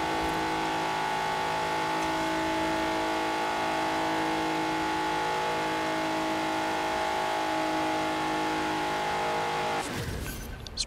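A stock 1992 Alfa Romeo 155 Q4 driven in Forza Horizon 4, its engine holding a steady, loud drone with layered harmonics for about ten seconds before a brief burst of tire or road noise at the end.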